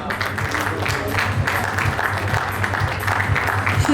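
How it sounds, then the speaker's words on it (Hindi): Clapping at a real estate firm's association event during a felicitation on stage, a steady wash of applause over a constant low hum and background noise. "एक जोरदार तालियां होनी चाहिए दोस्तों।"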